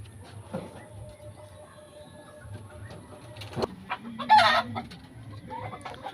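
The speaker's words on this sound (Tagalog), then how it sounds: "yung binili kong inay na manok na color white" Chickens, including a white hen bred on a game farm, cluck softly in the background, with a louder squawk near the end, amid farmyard ambience and a low steady hum.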